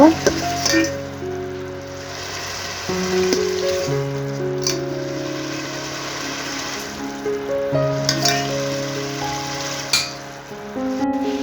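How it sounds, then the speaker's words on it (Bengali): Potatoes frying in a pan after fish has been removed, a moderate sizzle with stirring scrapes and occasional clinks, close by, over background music. "মাছগুলো উঠিয়ে নিয়ে আলুগুলো দিয়ে ভালো করে কষিয়ে নেব"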